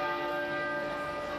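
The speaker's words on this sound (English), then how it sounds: "At Westminster Abbey, where Elizabeth was married and crowned, the bells tolled for an hour." Church bells toll at Westminster Abbey during mourning for the Queen, a sustained ringing resonance with layered bell tones hanging steadily in the air, loud and without talk.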